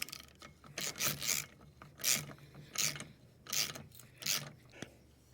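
A 24mm nut being tightened onto a Mercury outboard propeller shaft, heard as five or six close, rasping ratchet strokes in an uneven rhythm, moderately quiet with no talk.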